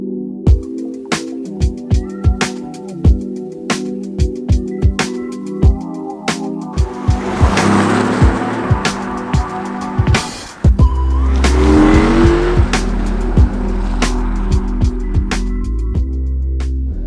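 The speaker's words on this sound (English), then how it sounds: "The i8 is a sports car that's designed to be used every day" A BMW i8 sports car engine revs and accelerates up close, with sharp clicks and bursts, then a deep sustained drone as it drives off loudly.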